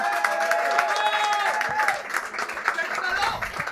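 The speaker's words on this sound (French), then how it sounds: "Vous pouvez applaudir maintenant." An audience at a comedy show in Toul, France claps steadily with some crowd murmuring, the applause sustained and fairly loud, fading slightly toward the end.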